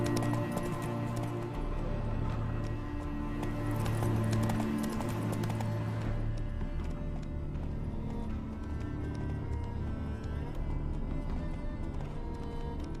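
Horse hooves galloping in The Witcher 3: Wild Hunt, a steady, rapid rhythm, loud and close, layered over dense game music and ambient sound.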